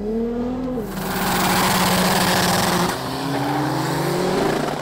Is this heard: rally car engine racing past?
yes